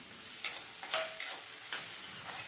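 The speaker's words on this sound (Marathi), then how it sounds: "कांदा थोडीशी कोथिंबीर आपल्याला एकत्रच असं तेलामध्ये टाकून चांगलं भाजून घ्यायचं आहे" Onion, coconut and chili paste fry in oil with coriander while being stirred, a low steady sizzle broken by several sharp scraping and clinking spoon strokes at irregular intervals.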